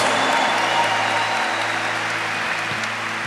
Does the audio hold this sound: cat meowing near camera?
no